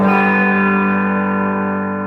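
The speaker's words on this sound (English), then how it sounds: "the next pedal on the board here is a Ibanez Tube Screamer TS-808." Electric guitar played through an Ibanez Tube Screamer TS-808 overdrive pedal, a single sustained chord ringing out with warm, gritty saturation and slowly decaying, loud and close with no talking.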